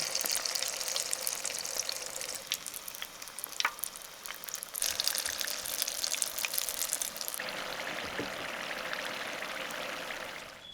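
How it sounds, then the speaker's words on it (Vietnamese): Vietnamese spring rolls (chả giò) fry in hot oil over medium heat, giving a continuous crackling sizzle close by that shifts a little as the rolls settle and the oil bubbles. "Khi dầu đạt độ nóng thì mình cho chả giò vào chiên"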